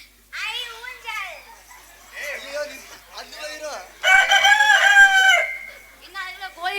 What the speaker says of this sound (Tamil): என்ன அதுல கோழி தான் கூப்பிடுதா?